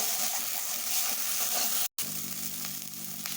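Spice paste with red chili being sautéed in a pan for a duck egg and cauliflower curry, a loud continuous close sizzle with a brief cut partway through.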